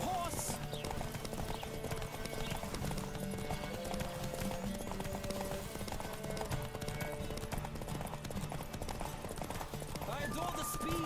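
Hooves clip-clop rapidly and steadily in a galloping rhythm from a horse in The Witcher 3: Wild Hunt, mixed with game music and other background sounds, with voices talking over it.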